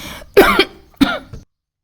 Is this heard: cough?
yes